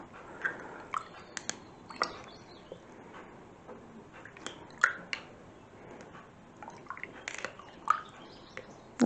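Debubbling tool stirring pressure-canned turkey in a glass canning jar, faint wet squishes and sharp little clicks scattered irregularly, close and quiet with no voice.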